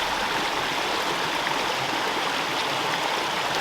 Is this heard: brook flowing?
yes